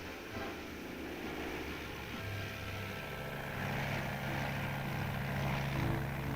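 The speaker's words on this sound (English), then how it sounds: "the Army plane completes its mission and returns to its base to await another assignment" An Army propeller plane flies past with a steady droning engine hum that swells slightly louder toward the end, heard alone without speech.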